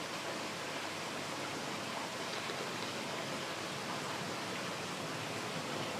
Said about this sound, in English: You can see the water that falls in, all the bubbles will break at the end.